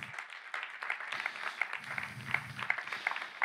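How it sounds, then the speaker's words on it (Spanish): A church congregation applauding, a brief patch of scattered, moderate clapping with sharp individual claps over a low murmur of voices. "Dale aplauso al Señor."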